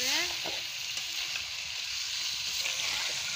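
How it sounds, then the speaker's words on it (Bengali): Meat and potatoes sizzling in a hot pan, a steady close frying hiss broken by light scraping as the pieces are stirred, with no talking. "তো আলু দিয়ে মাংসটা আগে কষাই নিলাম"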